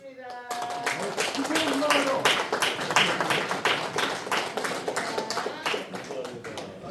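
A lecture audience at an academic conference breaks into loud sustained applause, many hands clapping together for several seconds, nearby and filling the room.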